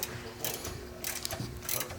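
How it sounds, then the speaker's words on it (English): A ratchet works bolts out of the bottom of a car battery box, giving faint, quick clicking bursts in short repeated strokes, close by and quiet. "taking the bolts out of the bottom of the battery box"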